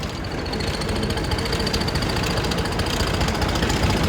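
A 5630 tractor hauling a super seeder uphill in fourth high gear gives a loud, close, steady diesel roar with a rapid knocking throb under heavy load.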